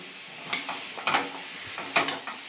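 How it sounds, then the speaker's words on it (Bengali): A spoon scrapes and stirs in a pan a few times, over a soft sizzle of jaggery melting and bubbling. "এইভাবে নাড়তে নাড়তে গুড়গুলোকে গলিয়ে নেব।"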